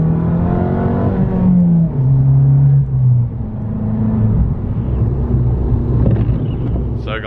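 Abarth 695 70th Anniversario with a Monza exhaust accelerating, valve open, engine note climbing through gears with a brief drop between shifts, heard from inside the car, loud and continuous.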